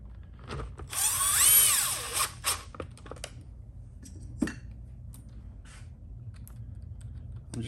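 A power driver drives long screws into a Traxxas X-Maxx Bigfoot monster truck chassis, with one loud whirring burst near the start followed by shorter, fainter bursts and clicks.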